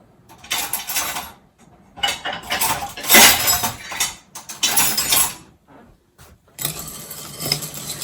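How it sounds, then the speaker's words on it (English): Chocolate and shortening stirred in a pan, a spoon scraping and clinking against the metal in uneven bursts with short pauses between strokes, close and fairly loud. "So I'm going to stir that."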